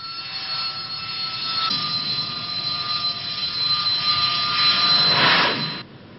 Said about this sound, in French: les chasseurs matadors vont faire une démonstration d'appontage et de décollage court ou vertical